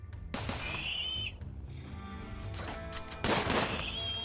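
Gunfire rings out during a Rimworld combat fight, several sharp shots spread over a few seconds against a steady bed of game music and ambience, with no talk.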